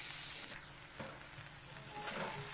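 Corn kernels sautéing in oil in a kadhai, a steady soft sizzle with faint stirring scrapes, fairly quiet and continuous with no talking.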